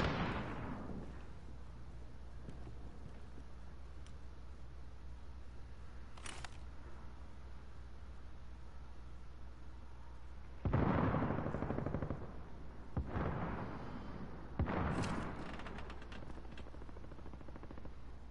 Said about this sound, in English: Some relatively close gunfire over there.